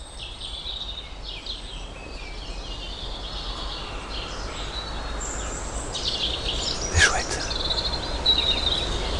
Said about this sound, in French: les petits oiseaux du matin